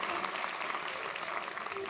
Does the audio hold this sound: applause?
yes